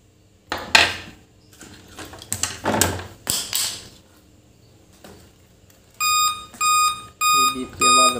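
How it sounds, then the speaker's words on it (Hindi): Repeated electronic beeps from an ECM unit signalling a five-beep fault, a series of sharp evenly spaced tones following earlier clicks and handling clatter, with a voice speaking nearby. "बीप की आवाज़ अब भी आ रही है इसमें।"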